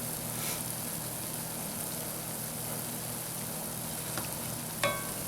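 Dhal and flour pholourie balls sizzle in hot oil with a steady, even hiss, close up. A hum runs underneath, and a couple of faint clinks come near the end, with no talking.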